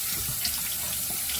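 A steady stream of tap water runs continuously into a sink to soak a shaving brush, a close, even splashing rush with no talk over it.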